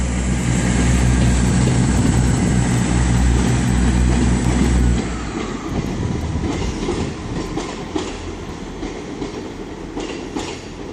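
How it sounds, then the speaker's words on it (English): An IET train at Exeter St David's station, a loud rumbling engine drone for about five seconds that drops away into rolling wheel and rail clatter as it moves along the platform. "Another train coming in soon, guys. There'll be an IET going to London Paddington"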